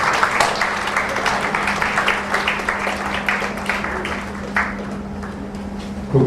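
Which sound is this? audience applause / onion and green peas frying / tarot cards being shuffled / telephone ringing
audience applause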